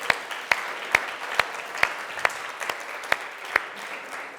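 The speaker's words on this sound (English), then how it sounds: "Let's give them a round of applause as they take their seats." At an outdoor jazz event, an audience applauds performers as they return to their seats. Sharp, evenly spaced claps stand out over a softer bed of clapping, forming a steady beat throughout.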